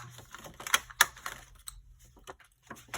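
Scissors cut paper for an envelope folio, a few crisp close snips and rustles followed by quieter paper handling.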